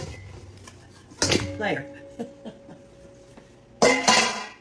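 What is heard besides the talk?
meatloaf pans being handled in a kitchen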